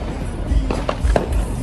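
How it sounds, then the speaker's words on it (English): Fireworks going off over the beach on the Fourth of July, heard from a parking lot as a few sharp pops and thumps in quick succession, fairly close and loud. "They doing fireworks all off the beach."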